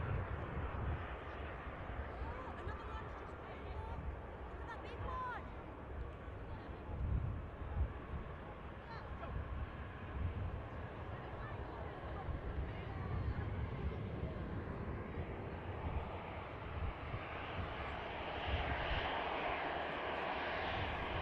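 A jet rotates and climbs away on takeoff at Manchester Airport, its engine roar rumbling steadily with gusts of wind, swelling toward the end, while a voice talks over it.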